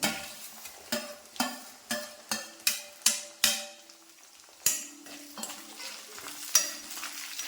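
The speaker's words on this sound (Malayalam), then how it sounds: "അപ്പോൾ അതിലേക്ക് നമ്മൾ വെളുത്തുള്ളിയും പച്ചമുളകും കൂടി ഇട്ട് കൊടുക്കുകയാണ്." Ginger, garlic and green chilies frying in sesame oil for a beetroot pickle, with steady sizzle and a string of sharp spoon scrapes and taps against the pan in irregular rhythm, close and fairly loud, no talking.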